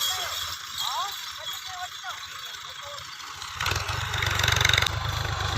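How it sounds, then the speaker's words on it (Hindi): A tractor working village farmland while the ground is prepared for onions keeps a low engine chug going, faint at first and then louder and rougher near the end, with birds chirping and some voices. "इसके लिए इसको ट्रैक्टर की मदद से सेटिंग कर रहे हैं इस ज़मीन की।"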